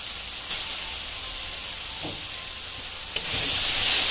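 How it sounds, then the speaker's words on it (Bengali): Grated coconut frying in a kadai (wok) for pitha filling gives a steady, close sizzling hiss throughout, with a couple of brief clicks from stirring near the end. "গুঁড়াগুলো দিয়ে দিচ্ছি কড়াইয়ের মধ্যে"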